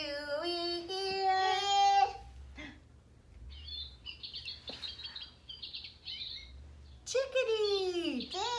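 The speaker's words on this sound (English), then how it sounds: "Chickadee." A chickadee calling: clear, high whistled notes and chirps, close and fairly loud, in short bursts separated by quieter pauses.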